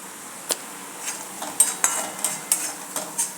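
A spoon stirs turmeric into mutton masala frying in a pan for a Kolhapuri mutton dish, giving a string of sharp, close scrapes and taps about every half second over a soft sizzle, with no voices.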